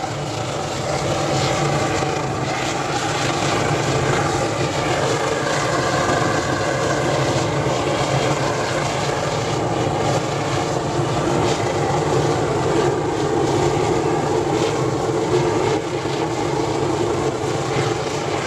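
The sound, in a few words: oil burner roaring in a simple furnace melting aluminium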